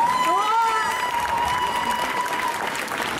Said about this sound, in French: je vous demande d'applaudir très fort Tsuki